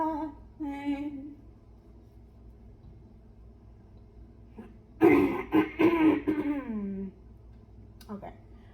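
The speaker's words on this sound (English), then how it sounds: "I had to clear my throat" A person clears their throat loudly with a rough, throaty rasp lasting about two seconds, preceded by brief humming or singing and followed by a short vocal sound.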